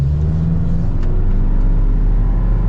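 A modified Chevy Colorado on 35-inch tires accelerates off-road, giving a loud, steady low engine rumble and drone that fills the whole short stretch, with no voices.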